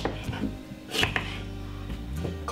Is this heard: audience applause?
no